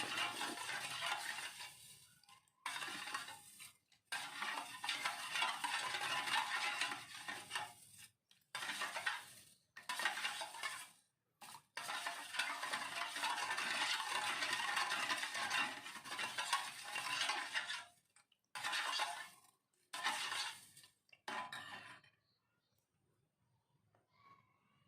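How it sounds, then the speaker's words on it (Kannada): A spoon stirs sugar into heralikayi juice, a steady scraping and clinking against the glass in repeated bursts separated by short pauses, fairly close and faint, ending in quiet. "ಸಕ್ಕರೆ ಎಲ್ಲ ಹಾಕಿದ್ಮೇಲೆ ಸ್ಪೂನಿಂದ ನೀಟಾಗಿ ತಿರುಗಿಸಿ ಸಕ್ಕರೆನೆಲ್ಲ ಕರಗಿಸ್ಕೊಬೇಕಾಗುತ್ತೆ."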